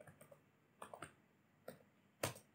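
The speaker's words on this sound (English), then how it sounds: "I will type here history" Keys clatter on a computer keyboard as a command is entered in a Linux terminal, with a few quiet, separated clusters of clicks and one sharper key press near the end.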